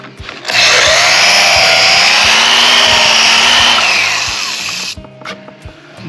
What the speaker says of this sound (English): I gotta drill that again.